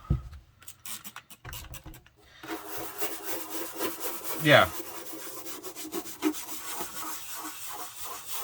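Brisk rubbing and scrubbing of a microfiber cleaning rag against a hard plastic Xbox console surface, steady and close, with a few short knocks and a brief word spoken.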